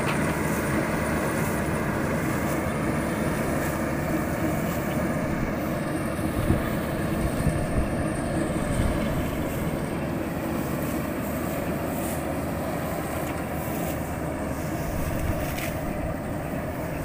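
A rice harvesting machine works in a swampy paddy field, its engine droning loudly and continuously with a dense mechanical roar and no pauses.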